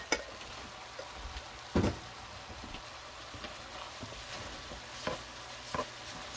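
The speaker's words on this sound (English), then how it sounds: "You're gonna fry the rice." Jasmine rice frying in a skillet gives a soft, steady sizzle and crackle, with a few louder scraping stirs at intervals; quiet and close, without talk.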